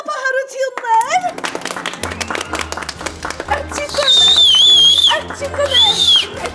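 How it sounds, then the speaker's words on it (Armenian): Audience at an Armenian television competition show breaks into loud sustained applause and clapping, mixed with whistles, children's voices and a host talking over the crowd. "Իսկ այժմ բոլորս բուրըն ծափահարություններ։"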